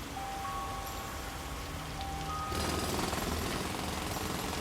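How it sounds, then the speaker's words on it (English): Muffled rumbling drilling in a cellar starts abruptly partway through, a rough continuous grinding that seems to come from below or behind a wall after a quiet stretch. "Drilling in the cellar."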